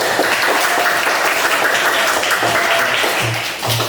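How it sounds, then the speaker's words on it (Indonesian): Classroom applause for a student group in a Catholic religious education lesson, a steady, dense patter of many hands clapping together for about four seconds, loud and close, with a faint low hum underneath. "Mari kita berikan tepuk tangan."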